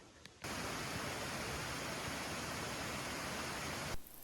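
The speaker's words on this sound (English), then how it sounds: "Also at this park is another waterfall called Cascades on Manitou River." Cascades waterfall on the Manitou River, Minnesota's North Shore, a steady broadband roar of falling water that starts abruptly and holds loud and unbroken for several seconds before cutting off.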